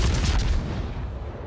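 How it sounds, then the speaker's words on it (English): Heavy naval gunfire from a Khabarovsk destroyer in World of Warships sounds as a deep booming salvo that rolls out and decays over a second and a half, loud and close. "I'm just gonna give him some parting shots"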